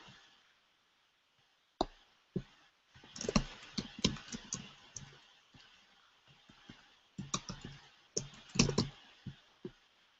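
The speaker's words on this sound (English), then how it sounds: "then you type your headline" A headline being typed on a computer keyboard: nearby key clicks in irregular bursts with brief pauses, fairly quiet, with no voices.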